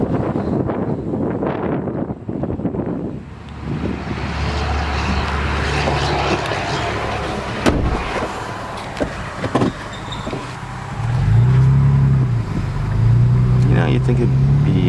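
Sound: lifted 2010 Toyota FJ Cruiser with performance exhaust

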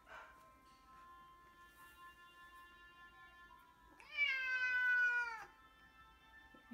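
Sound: cat meowing

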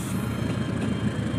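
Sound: train passing by near rice paddy

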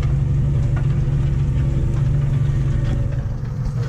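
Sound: tractor engine and exhaust running while ploughing

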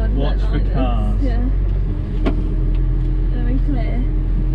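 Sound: tractor engine revving while driving

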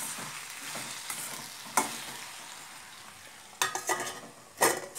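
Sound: ridge gourd pieces being stirred and cooked in a pan

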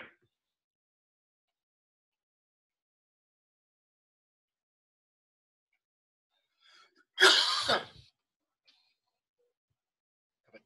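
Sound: cough

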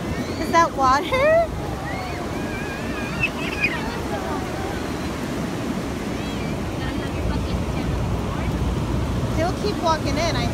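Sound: ocean waves breaking on the shore

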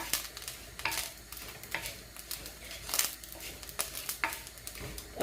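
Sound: stirring roasted grated coconut into maasi sambal

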